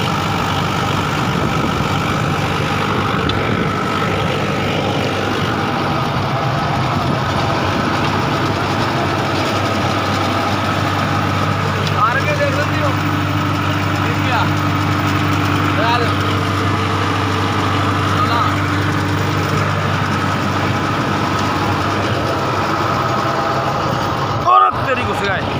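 An engine idles steadily at low RPM in a village in Firozabad, Uttar Pradesh, a continuous droning hum running throughout while people talk nearby.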